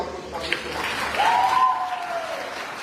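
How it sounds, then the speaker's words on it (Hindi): Party workers at a Churu political gathering clap to welcome a visiting leader, a moderate, steady patter of applause from a crowd with a brief whistle-like tone rising above it. "ये सारा कार्यकर्ता ताली बजा के आपको स्वागत करता"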